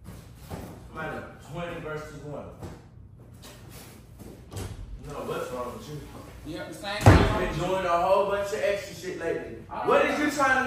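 A door slams once with a sharp, loud bang partway through a heated argument, and people talk before and after it.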